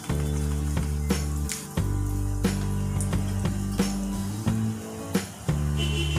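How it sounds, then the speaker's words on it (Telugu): Asafoetida tempering for a bottle gourd curry sizzles loudly in hot oil, a steady frying hiss broken by brief clinks and stirring, with no talking. "తాలింపు వేసారండి."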